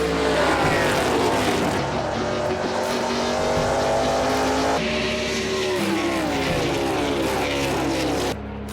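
NASCAR Canada stock cars race around a circuit, engines roaring loudly and continuously with rising and falling pitch as cars pass and shift, tire noise mixed in, no talk.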